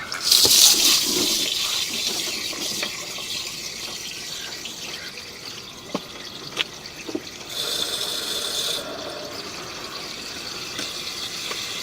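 Water rushing steadily through a drain line as it is flushed past an inspection camera, a broad continuous wash with a brief louder surge near the start, low mechanical clicks and a brighter hiss swelling midway.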